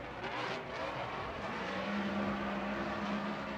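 Vaughn Gittin Jr.'s Monster Energy Falcon Tire Ford Mustang drift car roars through a drift run on a night track in Las Vegas, its engine a loud continuous snarl that holds a steady tone toward the end.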